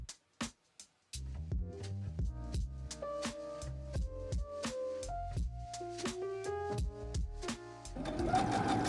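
A sewing machine stitches the armhole facing of a tent dress, starting with a couple of short bursts and then running steadily in a close, quiet rhythmic whir with mechanical ticking.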